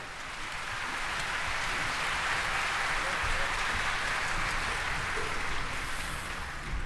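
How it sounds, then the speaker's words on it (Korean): Sustained applause from the audience at the 80th Liberation Day ceremony in Korea, honoring the Ministry of National Defense military band, a steady dense clapping wash held evenly for several seconds. "수고해주신 국방부 군악대대와 이태영 주무관에게 큰 박수 부탁드리겠습니다"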